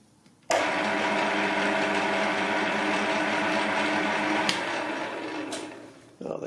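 A large 50 mm cutter bores steadily through steel plate, a loud continuous whirring grind starting abruptly and holding level before tapering off near the end, with a brief rise as it finishes.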